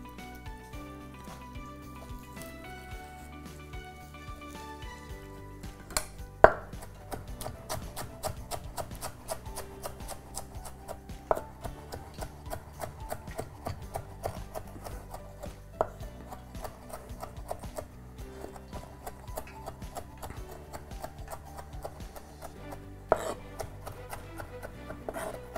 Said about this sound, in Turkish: Maydanozları çöp edeceğim.